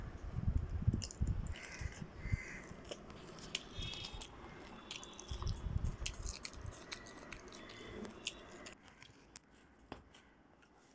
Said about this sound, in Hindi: पानी पूरी बनाया है मैंने। अब हम लोग ये खाएंगे